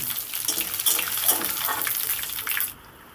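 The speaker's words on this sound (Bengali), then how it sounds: "হাফ চামচ গোটা জিরে দিয়ে দিলাম ফোড়নটা সুন্দর করে ভেজে নেব" Whole cumin, bay leaf and whole garam masala crackle loudly in hot oil, a dense bright hiss that stops abruptly near the end.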